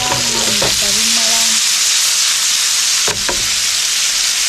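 Fish fries in hot oil with curry leaves in a Kundapura-style river fish fry. There is a loud, constant sizzle and crackle with a few brief clinks near the start and midway.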